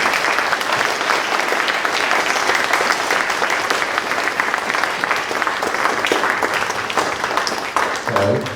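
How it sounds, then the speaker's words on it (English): Sustained audience applause for an engineering panel, steady and full through most of the stretch before thinning near the end. "Let's give our panelists a round of applause."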